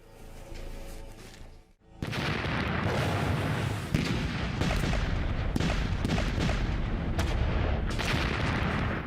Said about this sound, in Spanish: La potente artillería de Monas pulveriza las defensas alemanas a lo largo del canal Saint-Quentin.